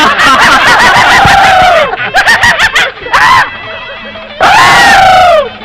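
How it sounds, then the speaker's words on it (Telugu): A man in a Telugu family comedy film lets out loud, long, strained screams that rise and fall in bursts over a noisy crowd-like background. "జురాసిక్ పార్క్ సినిమా చూసిన లెవెల్ అరుస్తున్నాడు?"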